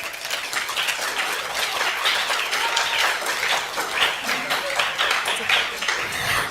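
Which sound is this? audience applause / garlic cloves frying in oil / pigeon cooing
audience applause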